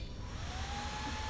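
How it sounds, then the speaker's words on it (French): A hair dryer running in a video game, a steady whooshing blow with a faint whine, close and fairly loud for a brief moment, no voices. "Un sèche-cheveux."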